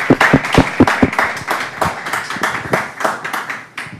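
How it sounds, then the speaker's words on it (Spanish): Applause for a doctor at the close of a formal ordinary session, with several sharp, close individual claps standing out over a sparser round of hands from a small group. "le damos un aplauso a la doctora Marta Luna"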